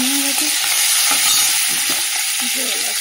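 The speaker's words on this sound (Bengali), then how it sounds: "আর এই যে চিংড়ি মাছটা ভাজবো" Prawns frying in hot oil in a washed wok crackle with a loud, close, continuous sizzle, with brief spatula clinks and stirring knocks over it.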